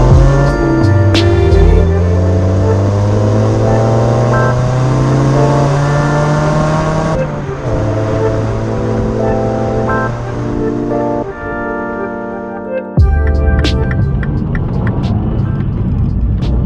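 A Mini One with a 1.4-litre engine drives along on a still evening, its engine note loud and close inside the cabin, rising through the gears with clear drops at each shift.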